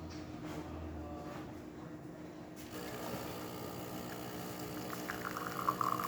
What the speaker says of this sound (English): As you can see, it's getting an espresso shot out.